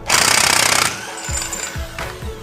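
A pneumatic impact wrench rattles loudly for nearly a second while removing a nut from a motorcycle's belt-drive transmission, followed by a few quieter metallic knocks and clunks.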